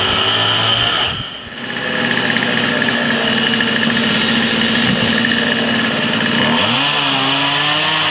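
A power saw whines steadily at close range for several seconds while cutting up interior parts of a building on Campbell Island, dipping briefly near the start, then an engine-like drone shifts pitch near the end.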